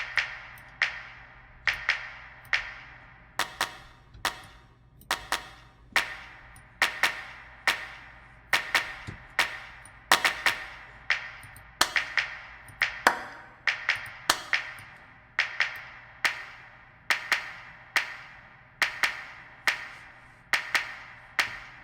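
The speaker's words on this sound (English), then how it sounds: "Try this rich clap." A rich clap sample repeats in a regular rhythm through a mix of a Motown song. The sharp, bright, reverberant hits sit over a quieter sustained music bed.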